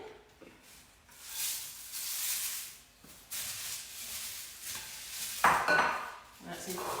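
Cornflakes tipped into a mixing bowl while making chocolate Easter tiffin; soft, quiet rustling and crunching pours in bursts, with a brief sharper clatter near the end, heard alone without talk.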